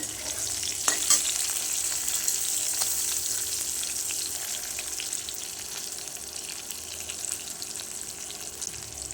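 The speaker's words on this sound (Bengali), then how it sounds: "এটা 2 থেকে 4 মিনিট মতো ভাজলেই হয়ে যাবে, বেশি ভাজার দরকার নেই।" Pieces of aair fish fry in hot oil, giving a continuous hissing sizzle with occasional crackles and a few stirring clicks; no one speaks.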